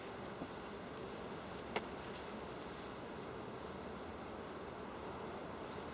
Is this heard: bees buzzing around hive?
yes